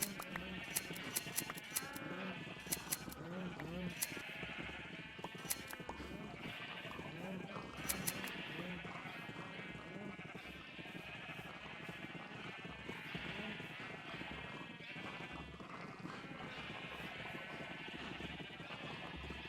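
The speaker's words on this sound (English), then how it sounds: "Get these sheep sheared." Minecraft sheep bleat over and over in a busy game soundscape, with the short nasal cries overlapping amid other farm-animal noises and no talking.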